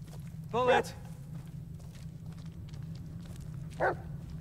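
Dog barking in the Blair Witch video game, two short bursts of barks a few seconds apart over a steady low hum, fairly close.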